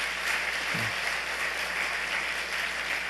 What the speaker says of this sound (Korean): 잠깐 일어나시면 우리가 박수로 위로의 뜻을 표하겠습니다.